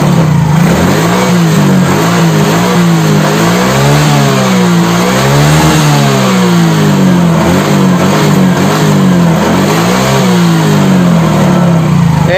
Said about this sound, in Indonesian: Lalu kita nyalakan mesinnya ya.